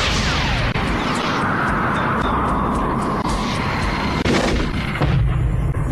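Cannon fire from a space fighter during a weapons check in the animated science-fiction series Teknoman, a sustained loud roaring barrage with sharp blasts and a rushing sweep overhead.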